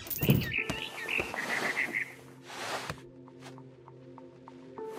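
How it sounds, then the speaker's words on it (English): A barn swallow chirping outside a window in the video game What Remains of Edith Finch, a quick run of bright chirps early on, then quieter ambient game sound with faint clicks. "Then I heard chirping outside my window. It was a barn swallow going back to her nest."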